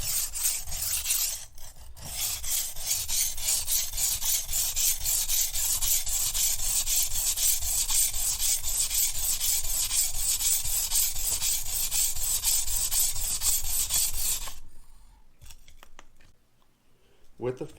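A knife is drawn back and forth on a SharpWorx Master sharpener stone in fast, even, rasping strokes, loud and close for about fourteen seconds before stopping, followed by a few quiet handling sounds.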